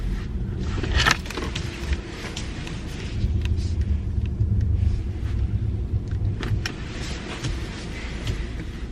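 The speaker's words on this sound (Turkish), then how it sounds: "Arkada araba var." A car passes behind on a cold winter road in Canada at about minus six degrees, a low rumble that swells through the middle and fades again, with no talk.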